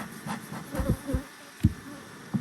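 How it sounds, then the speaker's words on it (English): Honey bees in an opened Sourwood hive box full of bees give off a faint, continuous buzzing, broken by several low thumps and knocks from handling the box. "Oh, now this box is much more full of bees."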